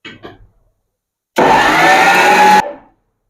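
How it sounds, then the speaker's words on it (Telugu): A mixer grinder pulses on peanuts and dried chillies for tamarind-leaf powder, a loud whirring grind lasting just over a second before winding down, after a short rattle at the start. "దీన్ని మధ్య మధ్యలో ఆపుకుంటూ మళ్ళీ ఒకసారి కలబెట్టుకుంటూ మళ్ళీ మిక్సీ పట్టుకుందామండి"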